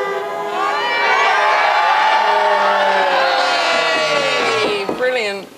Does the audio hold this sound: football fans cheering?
yes